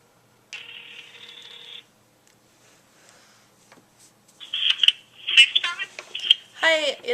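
A telephone call tone sounds once as a steady beep lasting just over a second, followed by near silence and then voices speaking over the line.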